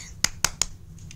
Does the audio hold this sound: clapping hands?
yes